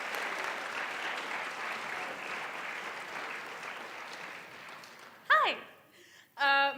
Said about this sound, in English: So let's give a big round of applause for Miss Ava Grunder.